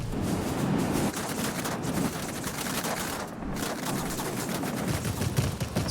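The rear gunner's machine gun in World of Warplanes fires in continuous rapid bursts, dense and loud throughout with no talk.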